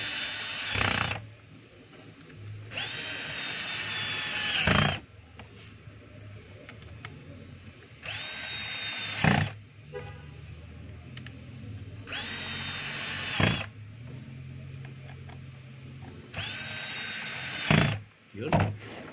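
A DeWalt D25032 rotary hammer drilling in repeated bursts of about two to three seconds each, loud and close with a high whine, separated by quieter pauses.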